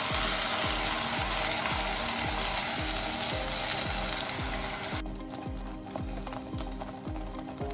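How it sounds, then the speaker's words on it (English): Tomato and onion paste sizzles steadily in hot oil for a curry, a loud continuous frying hiss with a rhythmic clacking of stirring underneath, easing slightly after a few seconds. "Now I am going to add the tomato and onion paste into it."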